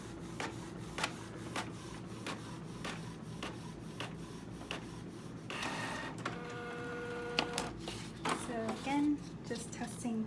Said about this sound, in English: So the printer works perfect on the cart.